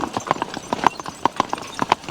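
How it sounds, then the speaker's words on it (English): Horse hooves clip-clop steadily on a road as someone rides past, a brisk, even rhythm of distinct hoof strikes heard clearly without any talking. "Somebody's riding a horse, I believe."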